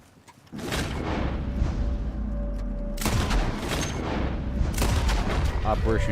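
Loud bursts of gunfire boom and rattle, with heavy blasts and echoes filling the space, in the video game Red Dead Redemption 2.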